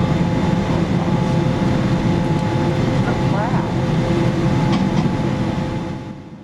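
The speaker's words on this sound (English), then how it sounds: "We're taxiing over to runway 23 for departure this afternoon" Air Canada Boeing 787-9 taxiing toward the runway, heard from inside the cabin as a steady low engine and airframe rumble with a faint whine, easing slightly toward the end.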